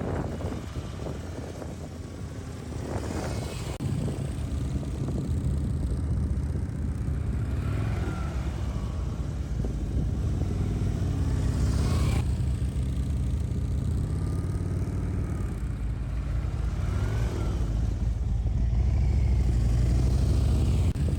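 A police edition Harley-Davidson Road King engine rumbles low and steady through tight U-turns inside a 27-foot space, with the revs rising and falling as the bike slows and turns again.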